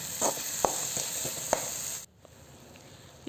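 Food frying in a pan while making vakkaya (cranberry) pulihora, with a steady sizzle, a few scattered sharp stirring clicks, and a brief quieter stretch near the end.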